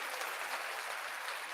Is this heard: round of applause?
yes